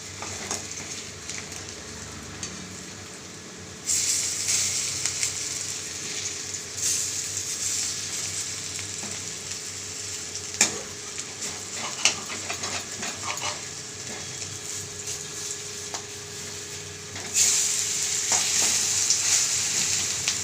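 Cauliflower fritters frying in hot oil give a steady, close sizzle that swells louder in stretches, with occasional stirring clinks and no talking.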